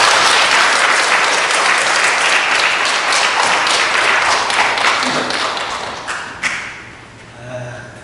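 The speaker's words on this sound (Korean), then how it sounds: "심차게 박수 한번 부탁드립니다" A church congregation claps loudly and steadily for the pastor at a new sanctuary dedication service, the dense applause fading toward the end with a few thumps and scattered claps.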